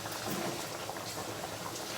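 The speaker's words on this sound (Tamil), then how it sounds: "நல்லா குழம்பு கொதிக்கட்டும்." Kurma gravy bubbles and simmers in a pot, a close, continuous soft boiling with small irregular pops and no talk.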